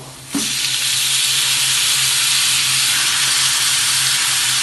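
Prawns dropped into a hot pan with garlic paste burst into a loud, steady sizzle that starts abruptly and hisses on without letup, close and alone.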